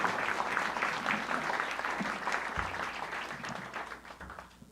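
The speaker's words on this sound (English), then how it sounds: "And let's hear it for Sarah." Audience applause at a live concert on the Cafe Lena stage, a dense, steady clapping crowd that slowly fades over several seconds, with no one speaking over it.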